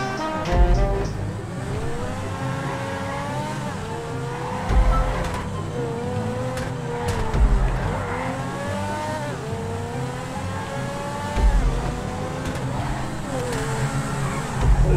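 A Grotti race car in GTA Online drives with its engine revving up and down through the gears, tires squealing in repeated skids and bumps thudding underneath.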